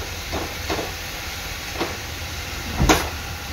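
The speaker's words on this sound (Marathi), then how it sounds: "कांदा चांगला लाल होईपर्यंत शिजवून घ्यायचा आहे" Onions fry in a pan for bhindi masala, a continuous close sizzling hiss with a few brief louder bursts and no speech.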